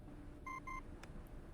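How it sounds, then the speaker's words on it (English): A communicator device in the video game Reverse: 1999 gives two short, clear electronic beeps in a row, then a brief fainter chirp, all set over a quiet low background hum. "The communicator's noise startles the nibbling horse."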